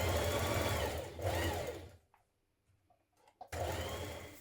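A sewing machine stitches dress shoulder seams in a fast, steady whir, stops for about a second and a half of near quiet with small handling clicks, then starts running again.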